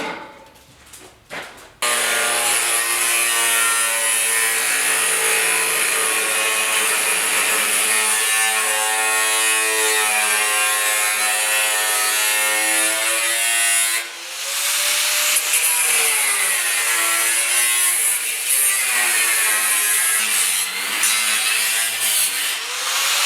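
Sheet metal patch material being cut for a rusted floor brace on a 1972 Ford 4X4, a loud continuous shrieking whine with shifting pitch that lasts over twenty seconds, briefly dipping once midway, with no voices.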